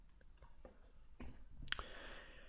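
A single quiet mouse click on a computer, close and brief, set against faint room hiss.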